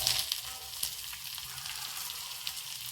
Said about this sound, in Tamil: பெரிய வெங்காயத்தையும் தாளிச்சிட்டு கருவேப்பிலையும் சேர்த்து போட்டுடுறோம்